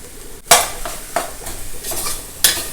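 A spoon scrapes and stirs a sizzling paste of chili powder, garam masala, turmeric and salt frying in a pan for jackfruit seed biryani, in a few sharp, close strokes over a low, constant sizzle.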